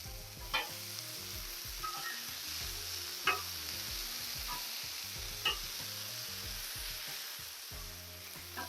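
Vegetables sear steadily on a hot Blackstone griddle for a beef chow mein, a continuous close sizzle broken by a few sharp spatula scrapes and taps and occasional louder pops.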